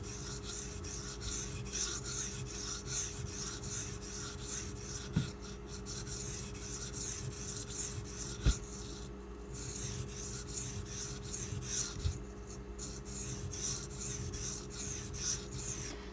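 A Kershaw Launch 11 knife with an off-center factory grind being sharpened on a stone, a quiet, steady rhythmic rasping of blade strokes with occasional faint clicks.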